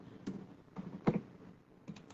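Quiet computer keyboard typing, a few scattered key clicks at an unhurried pace, close but soft, with no one talking.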